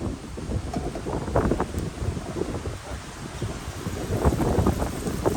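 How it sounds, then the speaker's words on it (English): Wind buffets the microphone with a steady low rumble and gusty roar that rises and falls throughout, close and fairly loud. "sorry for the wind, guys, but it's one of them windy days"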